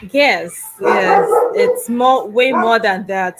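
A small dog barks and yips in the background in quick bursts while a person talks loudly and close over it.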